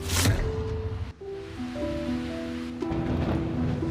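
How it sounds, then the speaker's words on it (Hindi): Heavy rain falls outside a window in an animated cartoon as a steady, loud hiss, with sustained musical tones laid over it. "वो खिड़की से बाहर हो रही तेज बारिश को देख रही है।"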